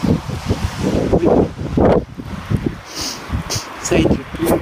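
Strong gusty wind of a violent winter thunderstorm rolling in from the Atlantic in Montoison, France, roaring and buffeting the microphone in waves, with someone talking over it.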